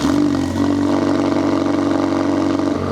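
A mid-engine car idles steadily after a cold start, its engine note loud, close and continuous with a low, even drone and fast idle throughout.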